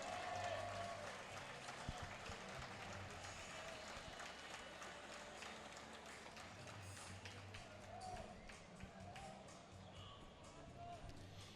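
Donegal high school crowd applauding a Class AAA District 3 championship baseball team, sustained clapping and cheering throughout, with voices mixed in.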